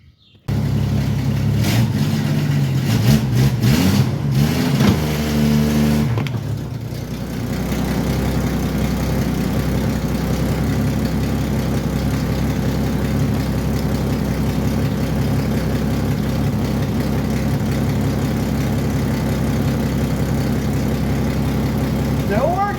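A car engine idles and revs close by as the car rolls over an ETENWOLF Sportsmate P300 ball pump, a few bumps and revs early on settling into a steady idle hum, with some talking over it.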